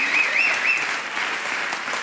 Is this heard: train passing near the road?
no